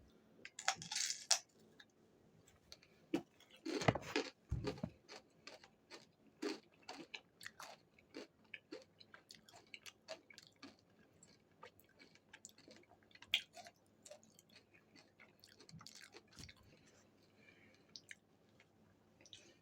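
Someone bites and chews crunchy jalapeño pepper potato chips close to the microphone: a loud crunch early on, then a long run of quieter, irregular crisp crackles and munching against near silence.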